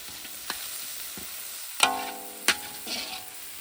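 Kothu parotta fries with tomatoes and chili powder in a pan, giving a soft, steady sizzle with a few sharp metallic clinks and scraping knocks as it is stirred.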